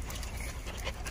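A rescued stray dog in a small courtyard pants quickly and close by in short rapid breaths, happy and excited, with no talking over it.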